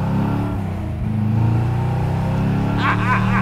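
A 1964 Ford Fairlane Thunderbolt tribute accelerates while merging into traffic, its engine giving a loud, steady rumble heard from inside the car, with the pitch climbing near the end.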